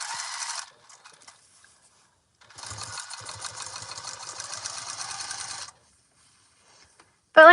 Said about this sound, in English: we are going to get this sewn